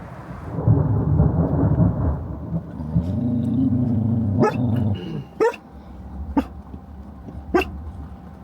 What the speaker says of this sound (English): there's a big storm brewing. Some big thunder, some big lightning.